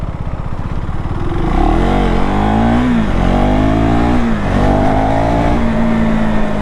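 A KTM 390 Duke single-cylinder motorcycle accelerating hard on an expressway, its engine note climbing loud and close through several rising sweeps as it pulls through the gears, with no talk over it.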